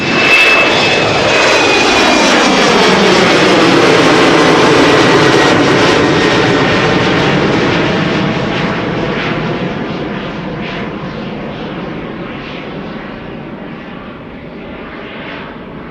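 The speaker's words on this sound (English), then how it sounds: "This is KLM flight 1639, Embraer 190, destination is Turin in Italy" A KLM Embraer 190 jet, fourteen years in service, roars loudly and steadily with its engines, the pitch sweeping and rising as it passes close by, then slowly fading with distance.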